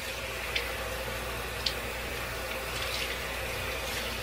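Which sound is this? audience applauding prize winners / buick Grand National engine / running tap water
running tap water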